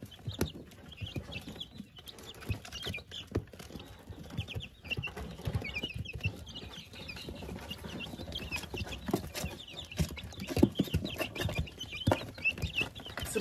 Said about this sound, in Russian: цыплятам 2 недели.